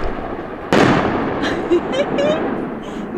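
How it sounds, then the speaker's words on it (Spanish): Fireworks and rockets go off in the Sierra Gorda in Mexico, one sharp nearby bang followed by crackling pops and a fading whistle-like tail, with voices faintly present. "Mira los cohetes en los mismos."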